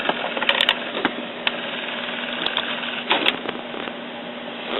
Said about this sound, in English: That's going to run an alignment page.